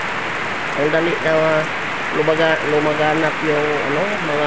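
Heavy rain suddenly pouring down, a constant broadband hiss of downpour heard steadily beneath someone speaking in Tagalog close to the microphone.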